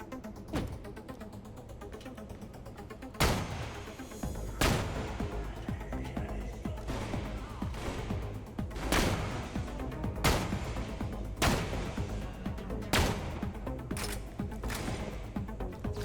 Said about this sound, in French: Mais il y a trop d'explosions!